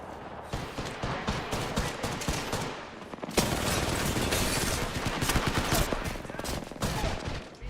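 Sustained video-game gunfire during a live-streamed shooter match, dense bursts of shots that grow louder and more intense partway through, with faint speech mixed in.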